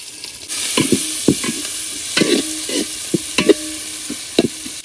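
Onions sizzle in a pan with garlic paste, ginger paste, cumin paste and ground coriander while a utensil stirs and scrapes in sharp, irregular strokes over the constant frying hiss.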